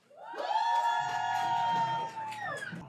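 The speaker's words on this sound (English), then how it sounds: "please give a huge round of applause to Neha Anand and the legend chef himself" A live podcast audience cheers and whoops for two arriving guests, a chef and his companion, loud overlapping shouts and voices swelling together, with a sustained high cry riding on top.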